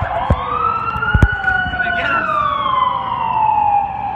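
A wailing siren sweeps up and down close by, with a few sharp thumps near the start.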